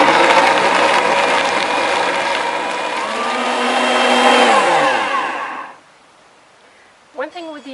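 An Omni Blender runs a 60-second cycle on raw vegan ranch dressing with dill, a loud close motor whir that shifts in pitch, then cuts off to quiet before a short spoken remark.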